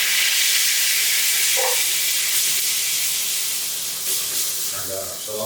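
Garlic-infused oil sizzles steadily in a pan as tomatoes go in for a pizza sauce, a loud continuous hiss with a few brief clinks and stirring noises near the end.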